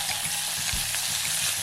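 Onion sizzles gently in cooking oil in a pot, a soft continuous frying hiss with faint stirring scrapes, close and quiet.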